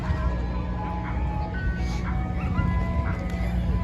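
Ice cream truck in a park near a baseball field, its jingle melody playing faintly over steady outdoor ambience and distant traffic.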